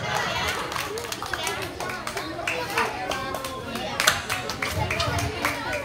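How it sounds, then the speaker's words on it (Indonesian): Applause for a children's drama performance at a church community gathering, clapping scattered through a lively crowd with children chattering and voices talking over it. "Tepuk tangan untuk saya."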